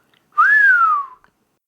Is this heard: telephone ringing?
no